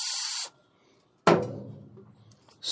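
An aerosol sprays onto a fitting on the mechanical fuel system of a Jeep AMC 360 V-8, coming in two short hissing bursts separated by a pause, with a brief scraping rub of metal after the first spray.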